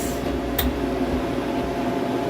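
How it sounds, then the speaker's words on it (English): A freeze dryer starts chilling its vacuum chamber, giving off a steady, even mechanical hum with one short click early on. "So now it's starting to freeze the vacuum chamber."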